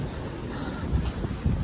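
Wind gusting across a snowy mountain trail in the Great Smoky Mountains, a low rumbling buffet against the microphone with a couple of stronger thumps, continuous and close.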